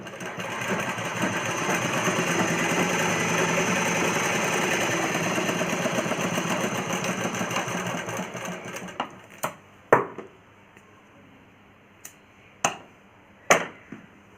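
A sewing machine stitches half-inch tucks on a plain blouse, a steady loud whirring run for about nine seconds, then stops, followed by several sharp isolated clicks and snaps.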